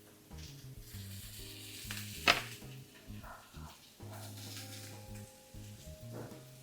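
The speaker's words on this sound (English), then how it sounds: "And then add all the cabbage." Cabbage sizzles in a pan over medium heat as it is stirred, with scraping stir strokes and a brief sharp clatter over a close, steady fry.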